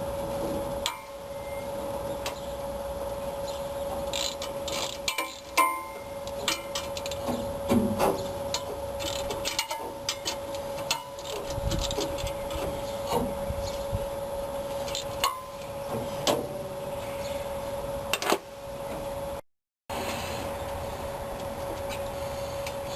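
Ratchet breaking loose the half-inch water pump bolts on a 1965 Ford Mustang GT, heard as repeated close clicking and ticking strokes over a steady mechanical hum, with a brief dropout near the end.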